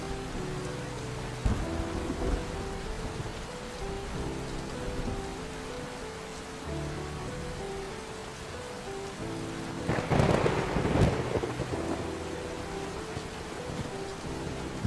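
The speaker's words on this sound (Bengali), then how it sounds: "মাঝে মধ্যে বিদ্যুতের ঝলকানি আর মেঘের গর্জন।" A cartoon thunderstorm effect plays steady heavy rain with low rolling thunder. A sharper, louder crack of thunder comes near the end, with no voices.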